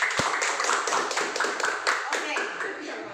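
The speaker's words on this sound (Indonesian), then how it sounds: "Berikan tepuk tangan kepada teman." Students in a Year 8 classroom clap for a classmate with a rhythmic burst of claps that rises and fades quickly, and some voices mix in.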